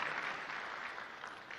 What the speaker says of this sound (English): Let's give him a proper clap for that.